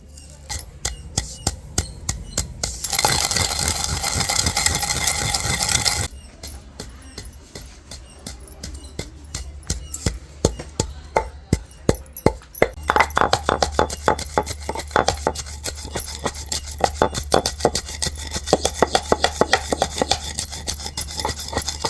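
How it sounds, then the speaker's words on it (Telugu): Mustard seeds and fenugreek being pounded in a stone mortar for a raw mango chutney, heard as rapid, close, rasping and clinking strikes that come in dense irregular bursts, with a stretch of steadier grinding early on. "ఇప్పుడు ఈ రెండింటిని రోట్లో వేసి దంచుకుంటున్నాం"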